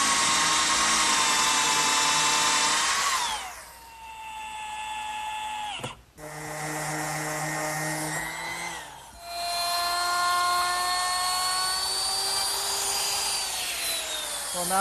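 Drill boring an angled blind screw pocket in wood with a 15-degree jig, a loud high-pitched whine that drops in pitch as it bites and is interrupted by brief pauses between runs.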